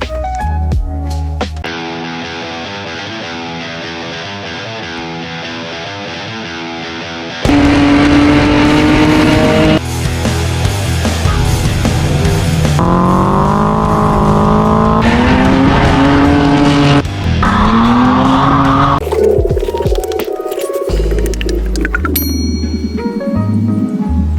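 A loud LS-swapped Scion FR-S engine roars and revs hard to the red line, pitch climbing and dropping through gear changes, with tires squealing near the end.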